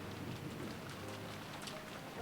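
Steady rain falls under eaves, a soft, dense hiss of drops hitting surfaces that holds level and unbroken throughout, with no voices.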